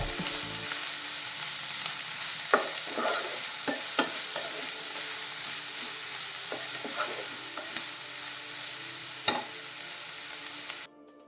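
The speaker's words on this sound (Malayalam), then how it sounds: "അപ്പം നമ്മുടെ സവാള നല്ല രീതിയിൽ വഴണ്ടി കിട്ടിയിട്ടുണ്ട്" Onions sauté in a pressure cooker pan over medium flame, a steady close sizzle of frying broken by intermittent scraping and clinking stir strokes, ending in a sudden cutoff.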